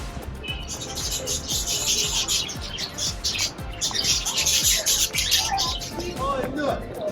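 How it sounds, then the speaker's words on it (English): White and colorful peacocks call in a city park, their harsh squawks and chirps carrying over steady outdoor background noise, with some faint talk in places. "White peacocks and colorful peacocks."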